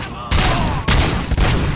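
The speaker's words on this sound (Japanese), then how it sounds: "赤いボンベは爆発するもの" A red gas canister blows up in RoboCop: Rogue City, loud sustained blasts and gunfire-like crackling in several close bursts filling the whole moment, with no voices.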